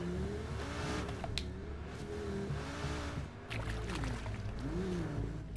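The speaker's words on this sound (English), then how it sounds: "I hear cars, so like I wonder how the hell they got cars to drive." Car engines in the video game H1Z1 rev and whine continuously, pitch rising and falling as cars accelerate and slow, with a steady mechanical drone underneath.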